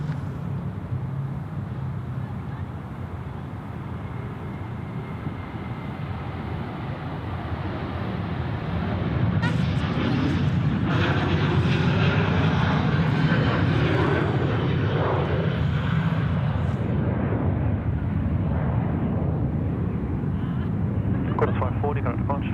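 A Sri Lankan Airlines jet departs Sydney Airport bound for Colombo, its engine roar building to a loud, sustained rumble that swells as the aircraft passes.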